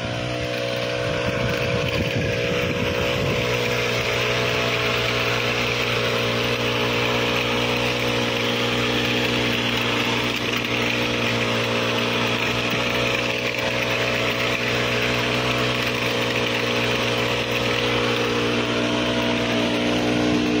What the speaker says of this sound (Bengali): দেখেন ছোট্ট একটা মেশিন উইডিং কত সুন্দর হচ্ছে